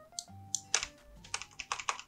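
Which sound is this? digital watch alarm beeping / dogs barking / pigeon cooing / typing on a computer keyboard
typing on a computer keyboard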